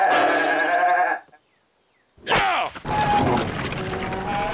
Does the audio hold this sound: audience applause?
no